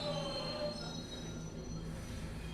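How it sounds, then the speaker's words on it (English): A train pulls into a station platform, its wheels giving a steady metallic squeal over a continuous rumble of rail noise, fairly loud and close, with no voices. "Finally, the train arrived"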